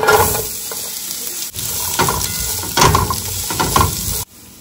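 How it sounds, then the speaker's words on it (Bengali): Onion sizzles and crackles as it fries in hot ghee in a pan, a loud steady hiss with brief stirring scrapes, stopping abruptly near the end. "এই ঘিতেই পেঁয়াজটাকেও ভেজে নেবো।"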